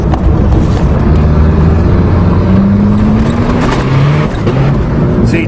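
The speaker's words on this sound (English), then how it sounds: "So I'll give it half gas, you just wait a tiny bit and then see what happens. You see what I mean? Now we'll try second gear." Dodge Aries turbo station wagon accelerating in second gear, a loud, close engine roar from inside the car with pitch climbing steadily as revs build, the sound continuous with no talk over it.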